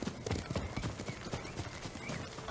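Horses clip-clop in the video game Ghost of Tsushima, irregular hoof knocks at moderate distance with faint background, fairly quiet overall.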